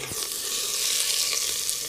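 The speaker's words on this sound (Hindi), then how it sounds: "भाई अभी तड़का लगा रहे हैं।" Onion and chili sizzle steadily in hot oil for a tadka tempering, a dense, continuous close-up frying hiss with no voices.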